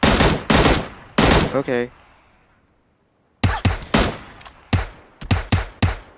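Sharp bursts of video game gunfire ring out in close, loud volleys, fading into a quiet gap before another rapid string of shots; a brief spoken word sits between them.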